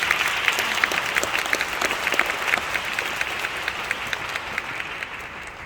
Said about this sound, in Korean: 나오실 때 큰 박수로 환영해 주시고